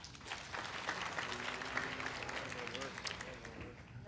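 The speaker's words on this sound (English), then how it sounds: "So can I hear applause if you are for the motion?" A debate audience applauds to vote for the motion, with steady clapping across the whole stretch and some voices and crowd murmur mixed in.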